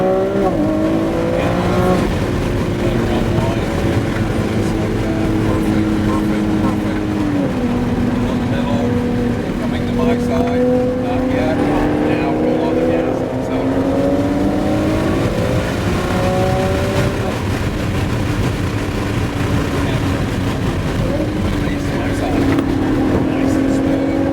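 A sports car accelerates hard on the Sonoma race track, its engine roaring loud and close from inside the cabin and climbing through repeated rising pitch sweeps between gear shifts, with occasional speech underneath.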